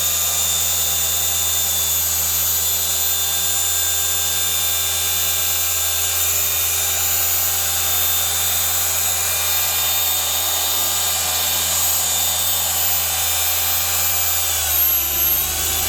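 A machine polisher spins at a raised speed on soft gloss piano black car pillar trim, giving a steady, loud high-pitched whine with constant tonal hum that holds throughout without talk.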